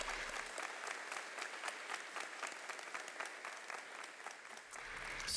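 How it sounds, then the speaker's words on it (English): An audience at a high school senior honor awards ceremony gives a sustained round of applause for scholarship donors, a steady wash of many hands clapping, heard fairly faint and distant. "A big round of applause to all our donors who are with us here tonight"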